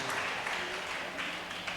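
Church congregation clapping during a healing service, dense continuous applause heard from within the room, steady and moderately loud with no distinct individual claps.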